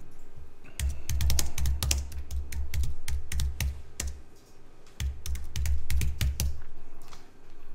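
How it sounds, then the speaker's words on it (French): Fingers type a title on a computer keyboard in two busy bursts of close, clattering keystrokes separated by a short pause, with no voices. "Vous pouvez déjà taper un titre si vous voulez."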